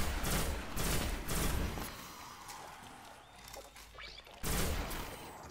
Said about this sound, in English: Burst fire is not bad in this gun.